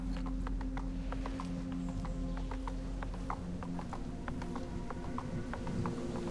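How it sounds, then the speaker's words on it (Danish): Horse galloping in the video game Star Stable, a quick regular clip-clop of hoofbeats continuing throughout over a steady low background tone, quiet overall. "Så lad os tage en lille kort galop."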